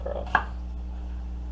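A knife slicing across a small onion on a cutting board, giving one sharp, close chop followed by quiet.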